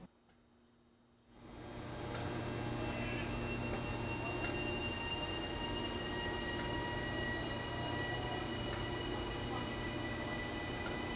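A commuter train pulling out of Papakura station for Britomart, a steady rumbling roar with faint wheel squeal that rises quickly and holds, heard from nearby on the platform side.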